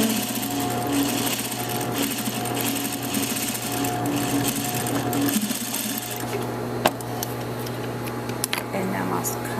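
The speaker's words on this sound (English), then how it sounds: "And then I'll edge stitch." A sewing machine runs steadily while edge stitching a shirt cuff, holding a close, continuous mechanical whir with a fast stitching rhythm, and a few light clicks and handling taps toward the end.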